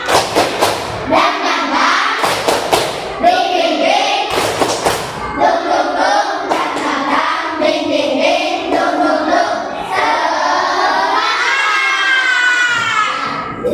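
A classroom of children performs a rhythmic spirit clapping chant, with sharp, loud claps in quick patterned bursts mixed with shouted chanting voices, ending in a sustained group cheer.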